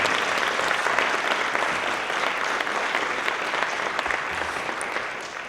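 A crowd applauds first generation college students at a college talk, a dense, steady wash of clapping that holds strong for several seconds and fades only slightly near the end.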